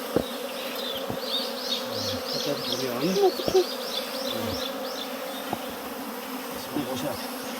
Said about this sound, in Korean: 거기 벌이 많아요.